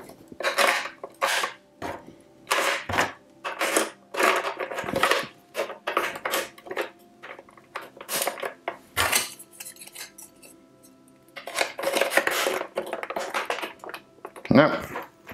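Batteries being fitted into a CGL Galaxy Invader 1000 handheld electronic game: close, irregular plastic clicks, rattles and scraping clatters in bursts, with short pauses between handling sounds.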